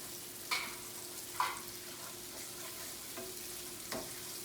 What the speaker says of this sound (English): while we're sauteing the peppers and onions